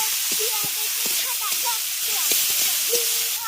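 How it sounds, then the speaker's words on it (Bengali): Boiled banana flower being sautéed in a pan, a steady close hiss of frying with scattered small pops and stirring clinks throughout. "এর মধ্যে দিয়ে দিচ্ছেন সেদ্ধ করে রাখা মোচা পাতাটাকে খুব ভালো করে কষিয়ে নিচ্ছে"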